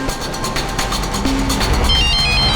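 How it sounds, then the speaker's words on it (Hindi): A phone ringtone chirps in a short electronic melody over a low background rumble. "कविता का फोन है"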